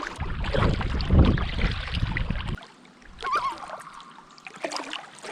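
Kayak paddling on a cold lake at a tent campsite, with broadband water and wind noise that drops away midway, leaving quieter splashes and a faint bird call over light lapping.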